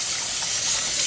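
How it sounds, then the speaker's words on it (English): Warm water runs from a kitchen tap over boiled eggs, a steady, close hiss of splashing water that fills the whole moment without pause. "And then I run some water under it"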